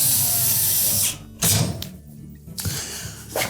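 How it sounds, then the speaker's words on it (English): A screw being driven into the back panel of a GE range, with bursts of power-driver whir and clicking separated by brief pauses and a thunk, loud and close, with no speech. "Then we'll install the single screw at the very bottom."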